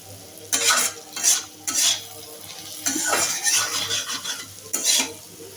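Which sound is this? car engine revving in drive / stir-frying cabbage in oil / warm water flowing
stir-frying cabbage in oil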